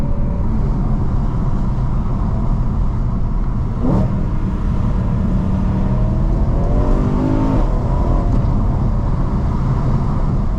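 A modified 2010 BMW E92 M3 accelerates hard, its loud engine note rising and surging steadily from inside the car, with no talking.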